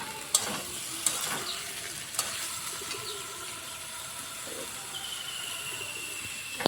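Drumstick, potato and ridge gourd being stirred in a pan, soft sizzling with a few sharp utensil clinks early on, then a quieter steady hiss.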